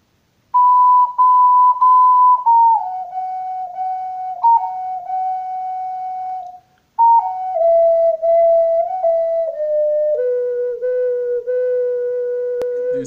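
Pure, flute-like ocarina tones play with altered fingering, gliding between held pitches in a slow, descending melody with a short pause partway through, solo and close.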